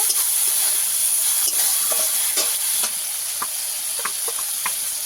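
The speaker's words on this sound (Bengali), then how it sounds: "তেল দিয়ে দেব টমেটো দিয়ে টমেটো ভালো করে ভেজে নেব" Tomatoes fry in oil for a vegetarian broccoli dish, giving a steady close sizzle with soft scraping and clicking from stirring and no talking.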